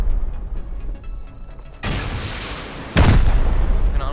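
Rocket explosions boom during a raid in the survival game Rust: two sharp, heavy blasts land a second apart, the second louder and closer, each followed by a lingering rumble.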